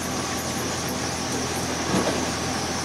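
A Japanese Showa-era private railway express train rolls by with a continuous loud rumble and hiss of wheels on track, steady throughout with a slight swell near the end.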